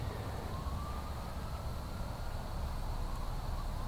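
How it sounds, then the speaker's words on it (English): An ambulance siren wails in the distance, faint and steady, beneath a low rumble of outdoor noise in the woods. "I hear an ambulance."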